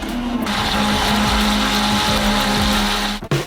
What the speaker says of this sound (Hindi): हम इसे एक ब्लेंडर के साथ अच्छी तरह से बीट करेंगे